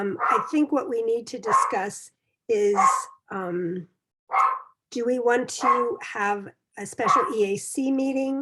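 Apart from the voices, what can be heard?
dog barking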